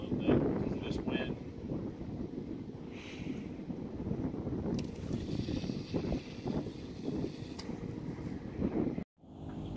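Wind blowing over water at a fishing spot, a steady low rumbling buffet against the microphone under someone talking, cutting out briefly near the end.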